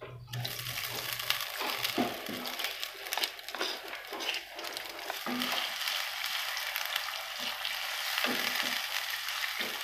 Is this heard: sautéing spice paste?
yes